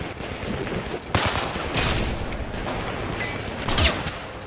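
Sniper and automatic gunfire in the VR shooter Zero Caliber VR, with several sharp, loud cracks at irregular intervals over continuous background battle noise.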